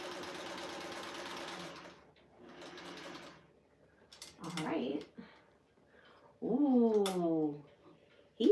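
A sewing machine stitches in two bursts, a steady mechanical whir followed by a shorter run, and then a cat meows loudly twice nearby in a quiet room.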